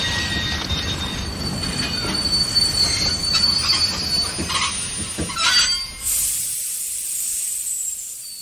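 Steel train wheels squeal loudly and continuously as a passenger train brakes hard after the communication cord is pulled, with rumbling rail noise beneath and a sharp hissing burst near the end as the brakes release air.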